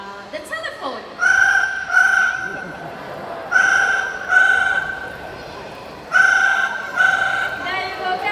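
Parrot imitating a ringing telephone during a bird show: after a brief opening call, three separate bursts of paired electronic-sounding trills, each short ring repeated twice, loud and close over faint crowd murmur.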